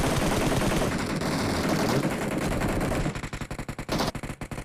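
Gunfire in the video game PUBG Mobile: a long dense burst of automatic fire, then rapid separate shots in quick rhythm, loud and close, with no talking.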